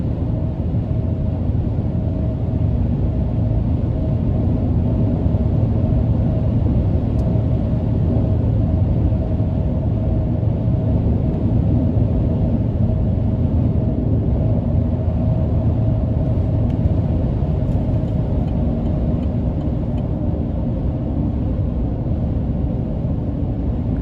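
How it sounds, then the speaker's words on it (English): Steady low rumble of road and cabin noise with a light wash of wind inside a 2022 Chevy Silverado 1500 Trail Boss with a 6.2 engine on off-road tires, driving on a freezing day, continuous and even throughout. "And the noise in the cabin isn't bad either. I hear a little bit of wind noise"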